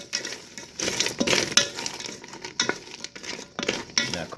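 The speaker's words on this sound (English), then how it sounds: "Stir them up real nice." Green beans are stirred inside a Ninja Foodi pot, producing bursts of scraping, rustling and light clinking of a utensil against the pot, irregular and close.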